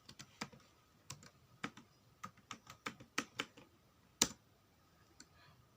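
Keys clack on a computer keyboard as someone types a password to log in, a series of crisp, close taps in uneven bursts with a couple of sharper strokes, no talking.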